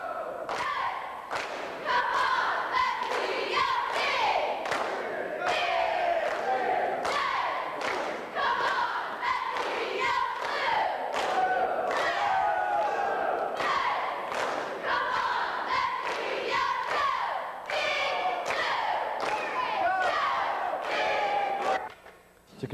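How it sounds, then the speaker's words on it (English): Students in the crowd at a North Penn High School assembly cheer along with the cheerleaders, shouting in unison over steady rhythmic claps and thumps that continue loudly for about twenty seconds. "The North Penn High School cheerleaders got the crowd pumped up with some enthusiastic cheers"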